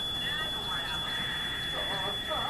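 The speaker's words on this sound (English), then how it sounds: "they got that stupid fucking fire alarm" A fire alarm sounds in The Sims 2 on Xbox, a steady electronic alarm tone running throughout with game sounds layered beneath it.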